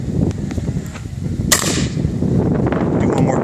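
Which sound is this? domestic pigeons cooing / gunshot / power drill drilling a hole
gunshot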